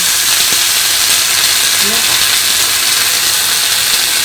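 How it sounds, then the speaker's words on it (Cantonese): Vegetables sizzling in a hot wok: a steady, loud, close hiss of frying that runs without break, with a faint voice barely surfacing under it. "擺埋啲菜上去啦"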